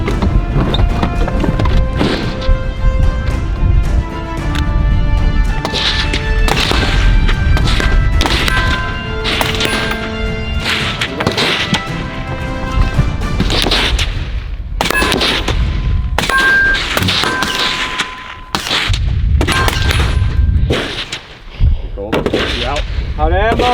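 Rapid gunfire during Navy SEAL shoot-and-move training with partners, loud nearby bursts and single shots crowding the whole stretch, mixed with shouted voices.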